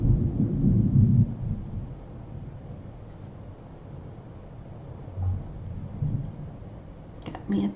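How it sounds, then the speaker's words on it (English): A thunderstorm passes through, with a deep, rolling rumble of thunder at first that fades into a low, steady background murmur, followed by softer rumbles and a brief crackle near the end. "Got me a thunderstorm coming through."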